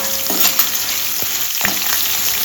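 Ginger pieces and asafoetida tempering sizzle steadily in hot oil for a South Indian tamarind rice, with a few light stirring scrapes over the constant frying hiss.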